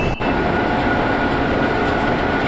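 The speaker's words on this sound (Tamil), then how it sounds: "இன்னொரு ட்ரெயின் ஃபுல்லாக ஏசி பெட்டி தான்ப்பா." Simulated train in the game Train Simulator 2025 rolling past with an AC coach rake, a loud steady rumble of wheels and carriages filling the whole stretch, no voices.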